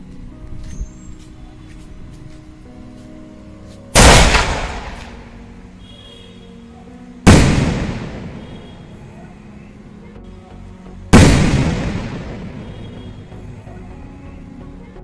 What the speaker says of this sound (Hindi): मुझे तो ये स्काई शॉट अच्छा लगा